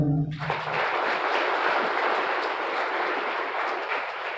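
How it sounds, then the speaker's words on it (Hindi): Sustained applause from an audience at a physiotherapy college event in Gorakhpur, a dense steady wash of many hands clapping that starts abruptly after a brief voice and continues evenly. "जूनियर्स के लिए एक बार तालियां"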